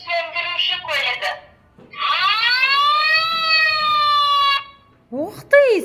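A voice imitates a fire truck siren with several close, wailing bursts that rise and hold, separated by short pauses.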